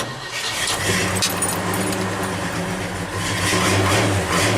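A car with a freshly overhauled cooling system cranks and starts with no choke after sitting overnight, then runs at a rough idle with the throttle feathered. The engine is loud, close and continuous.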